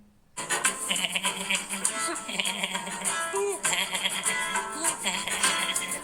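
Goats bleat repeatedly in a noisy, crowded setting, several wavering calls overlapping with background voices and clatter throughout.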